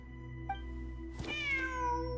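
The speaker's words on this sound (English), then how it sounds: "both heard the sound of a cat while escaping the ruin" A cat in the video game Genshin Impact meows once briefly, then gives a longer, clear, drawn-out meow over a steady background hum of game music.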